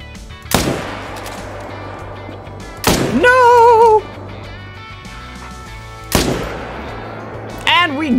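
Three loud rifle shots ring out at whitetail deer in the hunting game Call of the Wild, each a sharp crack with a ringing tail, spaced a few seconds apart, with a brief warbling tone between them.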